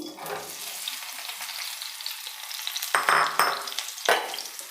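Cauliflower hitting hot oil with a burst of sizzling and crackling, a few sharp spatters, fairly quiet and close.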